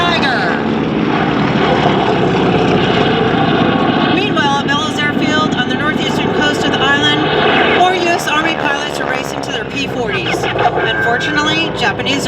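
Warbird aircraft flying as Japanese Zeros in a Tora! Tora! Tora! reenactment at an airshow make a loud, sustained propeller-engine roar that rises and shifts as they pass, while a voice speaks over it.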